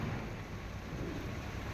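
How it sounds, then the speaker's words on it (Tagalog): Rain begins to fall near a cooling tower, a constant broadband hiss of drops with a low rumbling undertone, steady and moderately faint without any voices. "Mapatak na yung ulan."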